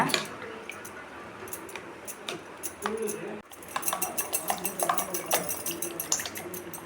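Eggs being beaten for an omelette, a utensil clinking quickly against the bowl in light irregular taps that grow busier and louder in the second half.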